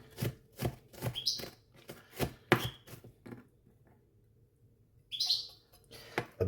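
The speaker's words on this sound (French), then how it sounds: "On émince un peu l'oignon." A knife thinly slicing an onion on a board, a steady series of crisp chopping knocks, then a pause and a faint high chirp before cutting resumes.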